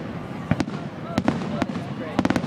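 Fireworks burst during a grand finale at a Twin Lakes display, with a rapid series of sharp distant bangs and crackles, heavier toward the end, while people talk over them.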